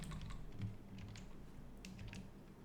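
Notes being typed on a computer keyboard, a quiet, close patter of key clicks in uneven bursts over a low steady room hum, no talking.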